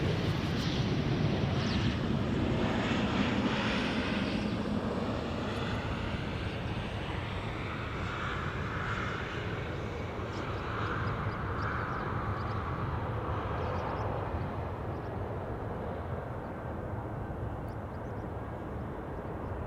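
An airliner arriving at Amsterdam Schiphol Airport gives a steady, distant jet roar that holds for the whole stretch under broad wind-like noise.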